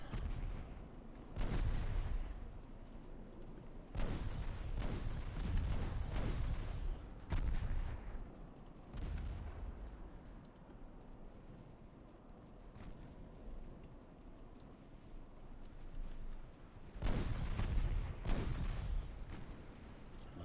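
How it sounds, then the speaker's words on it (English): Secondary guns aboard a warship fire in the naval battle game Ultimate Admiral Dreadnoughts, heavy booming volleys arriving in several separated bursts with rumbling decays between them. "Turning my secondaries on the enemy warship."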